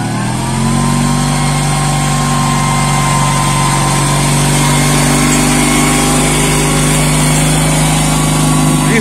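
A KMZ T-012 mini tractor with a two-cylinder UD engine clears snow using its factory blade. The engine runs loud and steady and close by, with a constant drone and no pauses.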